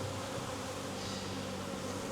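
Honeybees hum in an open hive during a frame inspection, a steady dense buzz that is continuous and fairly close, with no voices.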